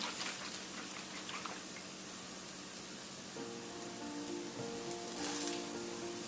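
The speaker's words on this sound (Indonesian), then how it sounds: "Kita tumis." Spice paste for tongseng, a meat curry stew, sautéing in a pan with a steady crackling sizzle close by and faint tonal clinks or tones in the background partway through.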